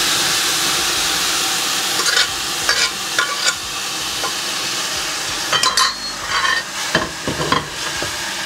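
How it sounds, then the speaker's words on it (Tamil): Boiled chana dal stirred into a pan of frying mustard seeds and curry leaves for a curry: a steady oily sizzle with irregular scraping stir strokes and clatters, close and fairly loud, no voices. "இப்போ இதுக்குள்ள நாங்கள் அவிச்சு வச்சுருந்த கடலைப்பருப்பை சேர்க்கிறேன்."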